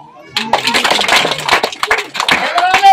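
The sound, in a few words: audience clapping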